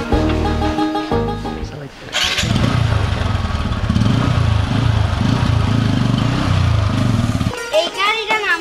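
A motorcycle engine cranks briefly, pauses, then catches and runs at a steady mid-pitched putter close by for several seconds before cutting off, with a voice at the end.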